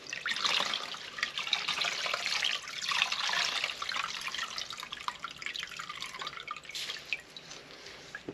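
Liquid sloshing and dripping as an air filter for a DRZ motorcycle is squeezed and worked by hand in a diesel bath, a steady wet squelching with trickles close by, no talk.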